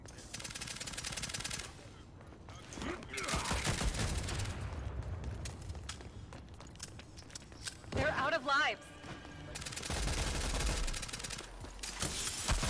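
Gunfire bursts in a first-person shooter video game, heavy loud blasts coming in several clusters with pauses between them, mixed with game voice lines and talk over the action.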